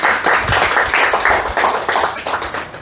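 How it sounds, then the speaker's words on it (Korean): A forum audience of local residents claps together at a redevelopment meeting, a steady, fairly loud patter of many hands lasting a few seconds, with no speech over it. "박수 한번 치시죠."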